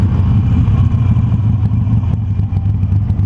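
A Harley-Davidson Sportster Roadster motorcycle rumbles loud and close, its low, lumpy V-twin exhaust throbbing steadily with rapid pulsing firing beats and a hint of clatter, with no voices over it.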